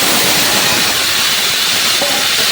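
Papaya and carrot hit hot oil tempered with panch phoron and turmeric, setting off a loud, steady, close sizzling hiss that fills the whole moment without any talk.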